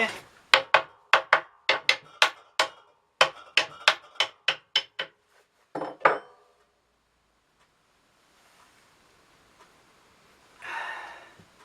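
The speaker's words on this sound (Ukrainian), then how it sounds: "Беремо наступну діжечку, відкриваємо її." Small wooden barrel of homemade calvados being opened: a quick run of sharp, close wooden knocks, a pause, a few more taps, then a quiet stretch ending in a brief soft rustle.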